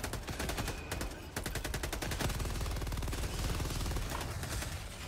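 Sustained rapid automatic gunfire from the video game Helldivers 2, dense loud bursts and repeated shots running continuously throughout with no voices.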